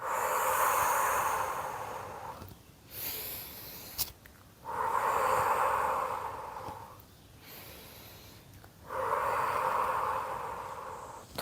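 Slow, deep breaths during a stretching routine, three long airy exhales alternating with quieter inhales in a steady rhythm, close and clear with no talking.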